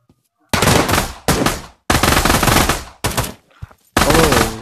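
Automatic gunfire in the VR shooter Pavlov: loud, close bursts of rapid shots in four or five separated volleys with short gaps, no talking.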